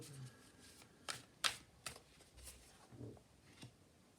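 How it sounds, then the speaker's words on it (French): A deck of oracle cards is shuffled by hand, with soft riffling flicks and a few sharper snaps in a quiet room. "Allez, je bats les cartes."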